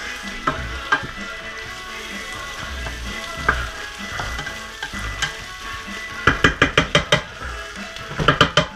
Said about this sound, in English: I gotta get my onions just a little bit softer.